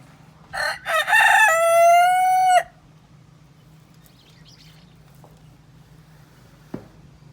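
An Australorp rooster crows loudly and close by, one long drawn-out call, then the yard goes quiet apart from a low hum and a single faint click.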